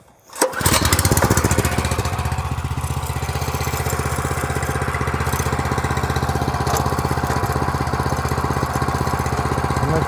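A GTM GH-7/100 walk-behind tractor, a cultivator, starts after a short quiet moment, then its engine runs on in a loud, close, steady, rough chugging rhythm.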